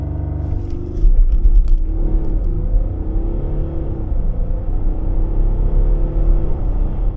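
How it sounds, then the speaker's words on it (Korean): A 2023 Volkswagen Touareg accelerates hard from a standstill, its engine rising into a loud, steady droning roar with shifting pitch, heard close and continuous from inside or near the SUV. "이번에는 발진 가속 성능 볼까요?"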